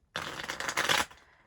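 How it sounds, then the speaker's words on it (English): A deck of Phase 10 game cards riffled in one quick shuffle, a dense close-up fluttering burst lasting under a second before stopping abruptly. "Let's give the card a quick shuffle"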